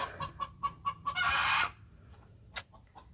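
A hen clucks several times in quick succession nearby, then lets out a longer drawn-out squawk, followed by one short call.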